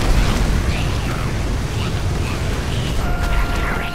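Fiery spell blast in the video game Magicka, a sustained loud roaring burst of game explosion noise filling the whole stretch with steady rumble, with players talking over it.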